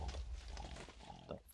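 A pig oinks in a Minecraft Feed The Beast modpack game, faint grunting snorts over a busy, noisy game background, with no one talking.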